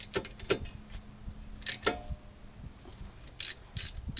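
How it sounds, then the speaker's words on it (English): Socket wrench with a 14mm socket ratcheting caliper bolts tight on the front brakes of a 2006 Toyota Sienna, giving a few short bursts of quick clicking close by, separated by brief pauses. "we can tighten those with a 14mm socket wrench"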